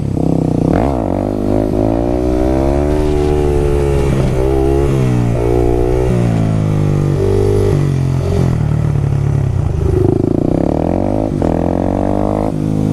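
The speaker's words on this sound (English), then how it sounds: "Second gear, clutch in, throttle up, clutch out, ride it out, ride the wheelie." A Yamaha WR250X motorcycle revving hard during a wheelie in second gear, loud and close. The engine pitch rises and falls as the throttle is worked, with wind rushing past the rider.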